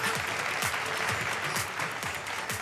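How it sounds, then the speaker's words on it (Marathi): Sustained audience applause at a Maharashtra awards ceremony, dense and steady for the whole stretch, a continuous wash of many hands clapping with no voices over it. "टाळ्या थोड्या आणखीन वाजत राहिल्या"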